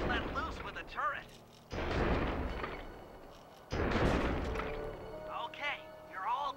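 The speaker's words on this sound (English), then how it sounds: "You'd better get out from underneath the tank before I let loose with the turret." A tank turret in the game Sly 2 fires in two heavy, booming blasts a couple of seconds apart, with voice-like game sounds around them.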